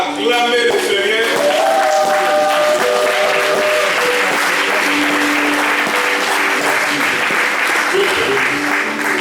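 Church congregation applauding and cheering the Lord, a dense sustained clapping from a large crowd, with sung or shouted voices and music tones running through it at steady loudness.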